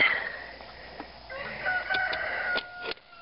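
A rooster crows nearby in a chicken yard, a single loud drawn-out call with clucking hens around it, over quiet outdoor background.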